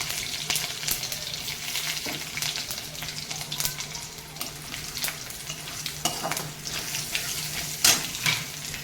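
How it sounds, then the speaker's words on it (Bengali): Mustard seeds, five-spice and finely chopped garlic frying in hot oil, a steady close sizzle and crackle running throughout with scattered pops and occasional spoon scrapes against the pan. "পাঁচ ফোড়নটা আমি ফোড়ন দিয়ে দেবো তেলের উপরে আর এই কুচি কুচি করে কাটা রসুনগুলো দিয়ে দেবো"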